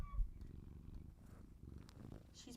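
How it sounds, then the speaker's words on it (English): A cat purring up close, a soft continuous low rumble that stays steady and faint, with a hint of a voice in the background. "She's purring at least."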